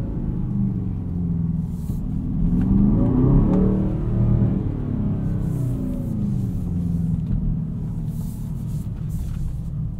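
A 2024 Aston Martin DBX 707 engine revs and accelerates, a loud, rising rumble that swells around the third second and then settles into a steady drone heard from inside the cabin, with no talk over it.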